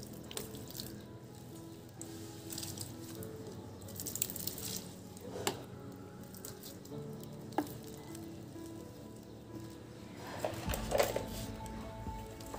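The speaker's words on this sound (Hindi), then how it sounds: "और अब इनको हम देंगे पानी, इनके हम वाटरिंग कर देंगे।" Water is poured onto indoor plants in a hanging basket, making soft, continuous trickling and dripping close by, with a few brief louder splashes near the end.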